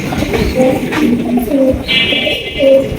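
Black Danish pigeons coo in short, repeated low calls at close range, with a brief higher chirp partway through and steady background noise underneath.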